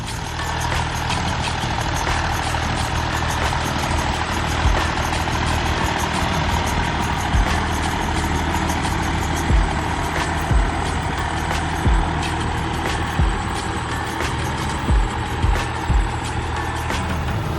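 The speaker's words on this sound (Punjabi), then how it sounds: "ਚੱਲਦਾ ਟਰੈਕਟਰ" A tractor engine runs in a potato field, a loud steady low-pitched diesel drone with a constant throb and occasional brief knocks, close and continuous throughout with no talking.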